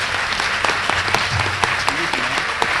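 Audience applause for the speakers at a multi-perspective panel gathering on the question of what life is, a dense steady roar of many hands clapping, with a few voices murmuring underneath.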